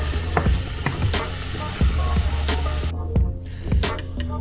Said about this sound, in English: keep an eye on these nice mushrooms. Make sure they don't burn.